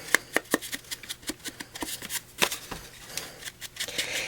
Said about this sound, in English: I'm gonna go in and daub around the edges